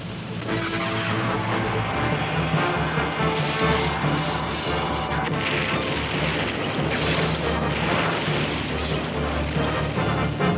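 A cartoon submarine torpedo launching and blowing up in loud, continuous booming blasts and crashing rumble that fills the whole stretch, with no speech.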